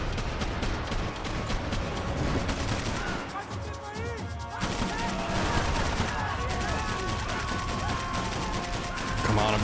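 Rapid gunfire bursts from a Max Payne 3 firefight rattle out in dense, repeated volleys, with a brief lull midway before the shooting resumes.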